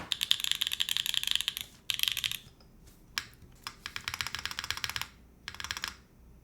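Bursts of mechanical keyboard typing on a Mode Tempo board fitted with a Mode keycap spacebar, with rapid crisp clacks in several runs separated by short pauses. The keys sound close and clear, and no one talks.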